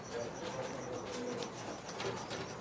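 Soft repeated cooing of a pigeon, fairly quiet, with faint background noise and a hint of voices.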